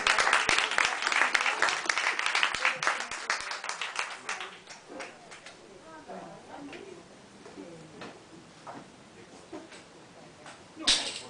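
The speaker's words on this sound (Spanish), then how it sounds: "Un aplauso para ellos." An audience at an arts café event applauds, dense clapping that is loudest at first and then thins and fades over several seconds, with voices murmuring underneath.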